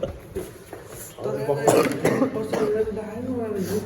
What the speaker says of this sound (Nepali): हल्का हल्का खोकी त लाग्यो